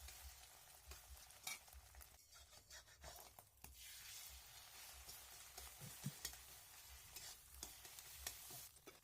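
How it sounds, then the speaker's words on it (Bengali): Eggs fry in hot oil in a pan with a steady, soft sizzle, broken by occasional scraping and stirring, close and quiet, with no voices. "ডিমটাকে ফাটিয়ে আমি ডিমগুলোকেও ভেজে নেব"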